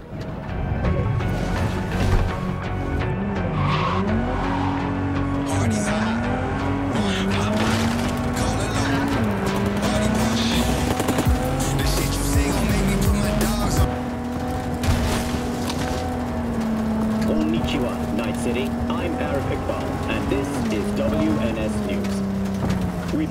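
A car driving in the video game Cyberpunk 2077, its engine tone rising and falling steadily through gear changes with occasional tire noise, heard beneath ongoing background sounds.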